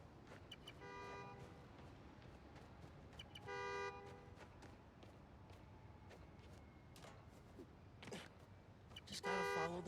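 In the video game Marvel's Spider-Man: Miles Morales, a car horn honks in several short bursts, the last one loudest and closest, over a quiet city street ambience.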